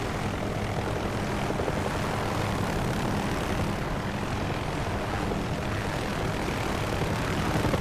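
Steady, loud rotor and engine drone of an OH-6A light helicopter flying in a DCS combat flight simulation, constant and unbroken throughout with no talk.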